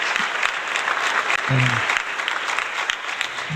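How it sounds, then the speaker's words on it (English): A live music audience claps after a song, loud continuous applause with a short voice breaking through midway. "They don't have to clap so long."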